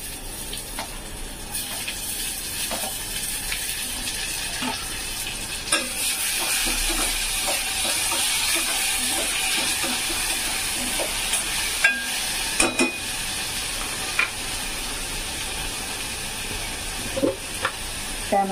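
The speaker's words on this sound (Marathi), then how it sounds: "आता कांदा आपल्याला 10 मिनिटं छान असा ब्राऊन करून घ्यायचा आहे." Chopped onion browns in a hot pan, giving a steady loud sizzle and frying hiss throughout, broken by the scrape and clatter of stirring spoon strokes near the end.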